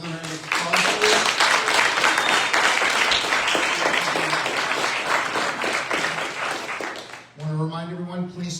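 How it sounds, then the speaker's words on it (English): Audience applause at a small theater screening and Q&A, a dense, steady wash of clapping for about seven seconds that cuts off abruptly, followed by a brief moment of voices. "let's give another round of applause"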